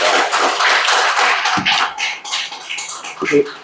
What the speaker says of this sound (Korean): 열정적인 강연을 해주신 이현은 교수님께 다시 한번 큰 박수 부탁드리겠습니다